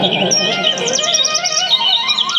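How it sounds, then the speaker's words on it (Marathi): Birds chirp and tweet busily at dawn throughout, with many high, quick calls overlapping close by. "पक्ष्यांचा किलबिलाट चालू झाला"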